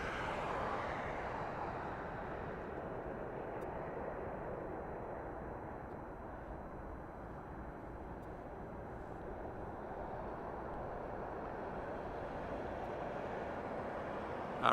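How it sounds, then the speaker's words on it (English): An Airbus A321 airliner at Las Vegas Harry Reid International Airport gives off a steady, distant jet roar, a broad even rumble that holds throughout with no voices. "this is gonna be an Airbus"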